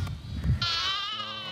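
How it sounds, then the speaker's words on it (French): Sheep bleat at close range in a lambing barn holding about 150 ewes and their newborn lambs in autumn; one long, wavering bleat sustains over muffled low rumbling and handling noise. "Là, il y a 150 brebis et il va y avoir à la fin aussi 150 agneaux."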